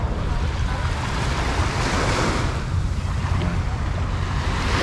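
Waves roll continuously onto the shore at Busan beach in South Korea, with a broad steady wash of surf and some wind noise across the microphone.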